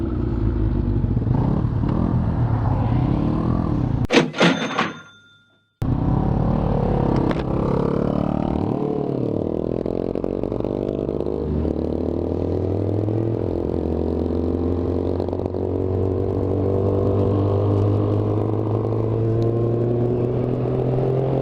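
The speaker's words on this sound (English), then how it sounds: "your bike keeps cutting out, I can hear it misfiring" A motorcycle engine rumbles loudly while riding, cutting out abruptly into near silence before catching again, with uneven misfiring and rising revs afterward.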